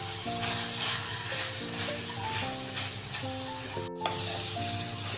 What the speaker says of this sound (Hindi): ऐड कर दी, ऐड करने के बाद हम इसको अच्छी तरीके से मिक्स करेंगे।